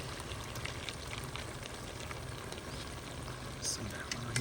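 Chickpeas go into a pan of well-fried meat, probably chicken, and a steady dense sizzle and crackle fills the clip close and fairly loud, swelling a little near the end.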